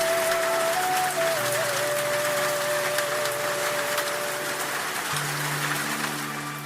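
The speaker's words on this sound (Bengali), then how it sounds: "এমন বৃষ্টি যা গত কয়েক বছরে গোবিন্দনগর গ্রামে হয়নি।" Heavy rain pours down on a cartoon village as a steady, soft hiss, with sustained musical tones layered over it.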